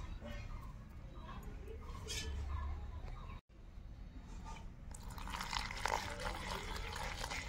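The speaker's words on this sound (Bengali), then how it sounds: "না না, তার জন্য তো অল্প অল্প করে দিচ্ছি জলটা।" Water is poured little by little into a cooking pot, a faint trickle and splash that grows brighter toward the end, with quiet voices talking in the background.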